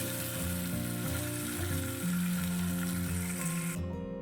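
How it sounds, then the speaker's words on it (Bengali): Pointed gourd frying in oil: a steady sizzle with a low, busy crackle running throughout, fairly close, with no talking; it cuts off abruptly near the end. "আমি এটা ভেজে নিচ্ছি"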